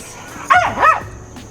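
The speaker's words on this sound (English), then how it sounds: "Shut up, dogs." A single loud, close dog bark, or a quick double yelp, rings out over a quiet background.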